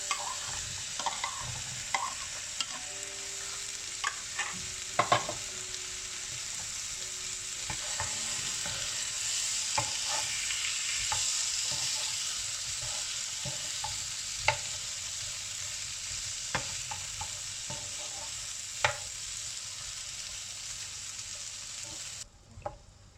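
Potatoes fry in a cooked masala, a steady sizzle broken by repeated scraping and clinking as a spoon stirs the pan, with no voices.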